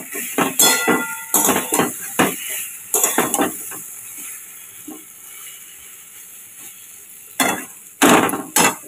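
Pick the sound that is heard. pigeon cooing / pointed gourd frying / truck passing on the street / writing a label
pointed gourd frying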